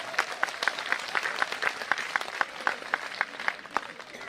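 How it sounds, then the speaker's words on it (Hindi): Audience at a Hindi comedy poetry show clapping with both hands raised, a dense, sustained round of applause with regular sharper claps standing out in a steady rhythm, fairly close and without talk. "एक बार दोनों हाथ ऊपर उठा के तालियां बजा"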